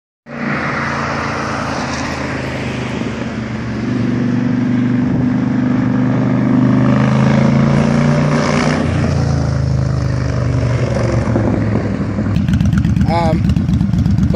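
A Yamaha Stryker motorcycle passes by with a steady, loud engine drone that builds and holds through the pass, shifting pitch near the end as it goes by.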